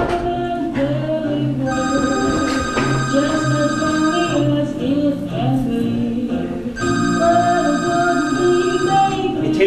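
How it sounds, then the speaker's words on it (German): A telephone rings on stage during a theater performance in two long electronic bursts with a pause between, loud and close, over a murmur of background voices. "Ihr Telefon klingelt."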